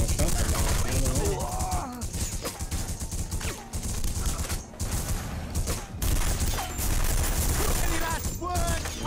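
Rapid bursts of gunfire from The Punisher video game ring out nearly nonstop, loud and dense, with someone speaking over the shooting at points.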